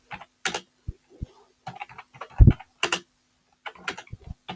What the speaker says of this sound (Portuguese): E eu posso clicar Enter.